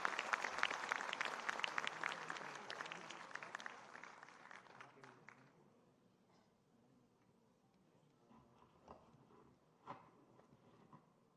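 An audience at a National Youth Day 'Youth as Job Creators' event applauds, fairly distant and faint, with the clapping fading after a few seconds into quiet room noise and a few stray sounds.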